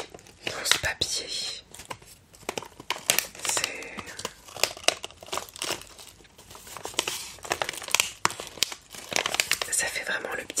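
Close, crackly crinkling of herbal tea bags in paper wrapping, handled in irregular bursts and rustles throughout, with soft whispered talk over it.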